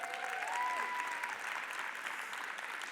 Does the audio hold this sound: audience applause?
yes